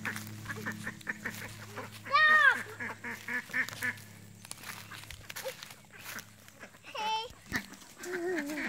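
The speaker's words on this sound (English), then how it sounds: "Go get the ducks." Ducks quack several times in short bursts, fairly close, with footsteps and faint background noise between calls.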